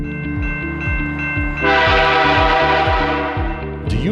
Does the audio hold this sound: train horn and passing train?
yes